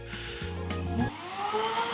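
A robot vacuum cleaner running in a kitchen, a steady close whir with a shifting pitch partway through, no talk.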